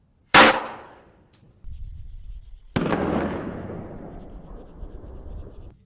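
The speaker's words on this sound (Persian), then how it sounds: "این گلوله خیلی کلفت بود، فقط خورد به سطح و همونجا برگشت بیرون." A sniper bullet strikes a beer keg and ricochets off: one sharp, loud metallic crack that rings out briefly, then after a quiet gap a second heavy burst that decays slowly, with no talking.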